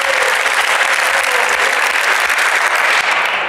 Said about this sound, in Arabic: أعطوني تصفيقة على هذا البلاتو الرائع.